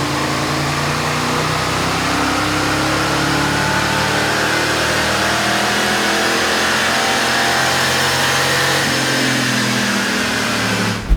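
Engine on a dyno run with the factory upper intake manifold fitted, roaring loudly and steadily as it revs and climbs through the rpm range, close and continuous with no talking.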